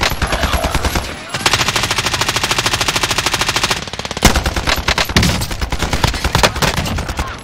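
Gunfire in the video game Call of Duty Warzone: loud, close automatic bursts with a fast regular rattle of shots, broken by brief pauses and single heavy reports, dominating the scene.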